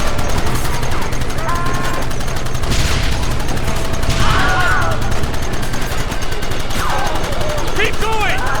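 Gunfire crackles in Red Dead Redemption, steady loud volleys of shots continuing throughout, with shouting voices over the shooting.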